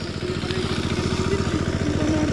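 A motorcycle engine runs steadily nearby with a rapid, throbbing putter and a slight rise in pitch toward the end.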